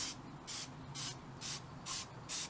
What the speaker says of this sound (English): take the spray and spray it along